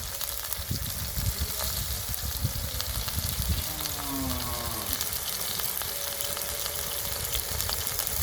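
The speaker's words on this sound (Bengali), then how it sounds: "এখন সব মশলা দিয়ে দিব দিয়ে দিব আদা জিরা বাটা মরিচের গুঁড়া" Ginger, cumin paste and chili powder sizzling in a pan with a little water for a pigeon or chicken curry in a village kitchen, a continuous close hissing fry with faint scraping.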